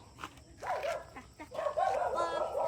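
Dogs on a Sunday walk yip and bark in short, close bursts mixed with whimpery calls, while a person talks over them.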